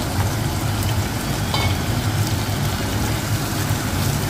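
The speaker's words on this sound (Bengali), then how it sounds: "মাছের মাথাটা ভালো করে ভাজতে গেলে একটু তেল লাগবে" Fish heads frying in hot oil in a pan, a steady, dense sizzle and crackle that runs loud and unbroken throughout with no talking.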